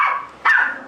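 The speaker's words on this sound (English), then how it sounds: "my puppy barks at very random things." A puppy gives two short, sharp, high-pitched yips close by in a quiet room, the second sharper and louder.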